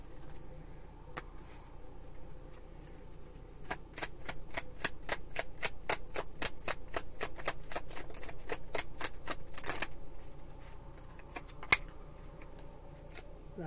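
Tarot cards being riffled and shuffled, a quick run of crisp flicking snaps lasting several seconds with a few isolated slaps before and after, close and fairly quiet.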